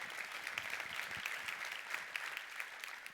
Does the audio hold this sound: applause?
yes